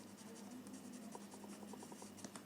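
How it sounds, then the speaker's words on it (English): A chalk pencil scratches quick, light strokes across paper while adding highlights to a Zentangle drawing, a soft rapid scribbling close by that stays fairly quiet throughout. "I'll just pick up my chalk pencil"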